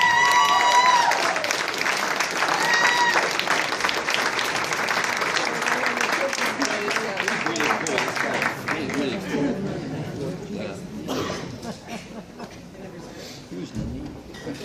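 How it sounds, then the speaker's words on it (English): Loud applause from a town hall crowd, dense clapping that gradually thins and fades, with chatter and voices mixed in. "Give him a round of applause"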